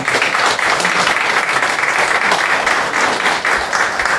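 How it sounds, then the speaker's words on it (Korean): Loud, dense applause fills a hall at a church press conference launching a two-million-person Korean church joint worship service, a steady roar of many clapping hands that holds without a break. "우리 이 출범 기자회견을 위해 큰 박수 부탁드리겠습니다."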